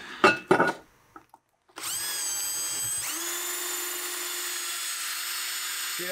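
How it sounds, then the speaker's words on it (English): A cordless power drill spins up alone and runs steadily at high speed, drilling holes in steel, after a few brief knocks and clicks at the start. "Now we need to drill some holes, but we need a battery first."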